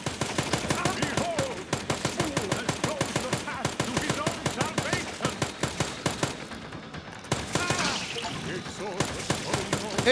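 Two SMGs fire in the video game Dead Rising Deluxe Remaster, a long rapid stream of close shots in steady bursts, with a brief lull and a louder stretch near the end.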